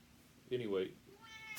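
A female house cat gives a loud, drawn-out meow close by indoors, a single call that rises and falls, followed by a voice speaking.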